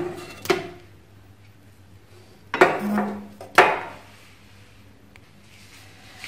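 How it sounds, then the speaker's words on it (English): A cooking pan of Kashmiri dum aloo potatoes is taken off the stove flame. Three sharp metallic clanks ring out close by over a few seconds, with quiet gaps between them. "Now I'll remove it from the flame."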